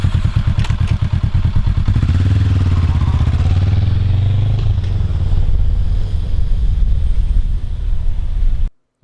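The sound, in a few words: Honda NC700X motorcycle riding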